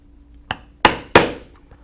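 Three sharp hammer strikes drive a 1/8 inch punch through leather, spaced unevenly and close up, each a crisp knock with a short ringing decay, plus a faint tap after.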